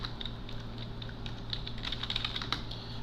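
Typing on a computer keyboard while coding in Delphi, quick light clicking keystrokes in an uneven run, close and fairly quiet over a low hum, ending with a firmer keypress.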